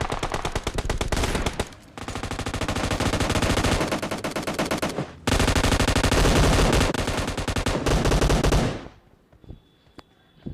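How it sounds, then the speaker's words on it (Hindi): Gunfire from behind during a squad fight on a bridge in a battle royale mobile game: long, dense bursts of automatic weapon fire, loud and close, with brief gaps before stopping near the end. "यहाँ पे मुझे पीछे से फायरिंग आती है"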